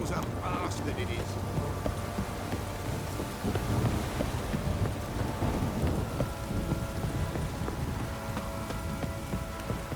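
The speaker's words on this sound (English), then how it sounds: "This downpour's a bastard," Steady heavy rain pours down in The Witcher 3, with a low rumble of thunder beneath the constant hiss; a voice speaks over the storm.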